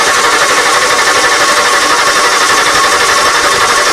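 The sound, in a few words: 1994 Ford F150 engine cranking and starting with choke partially shut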